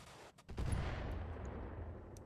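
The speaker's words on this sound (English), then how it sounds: "we might as well fire some LRMs at him" A volley of LRM missiles launched by a mech in the RogueTech game, a sudden heavy roaring rush that swells after a couple of faint ticks and then holds as a dense rumbling stream, no speech.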